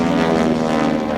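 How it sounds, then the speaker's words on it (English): A propeller airplane engine drones steadily and loudly during an aerobatic roll at a Texas fly-in air show. It is a close, continuous hum with no talk over it. "there goes Carl, rolling the airplane around again"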